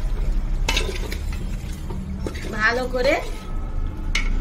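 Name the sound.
stirring potatoes with yogurt in a pot for chana dal khichda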